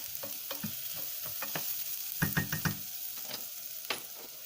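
Onions and carrots sizzle steadily in a hot pan, with a run of sharp clicks and scrapes from a stirring utensil, several bunched around the middle, all close and moderately loud with no talk.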